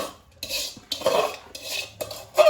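A spoon scrapes and clinks against a metal bowl while gundar pak mixture, made with soaked edible gum, is stirred in bursts of rough, gritty strokes separated by short pauses, close and fairly loud.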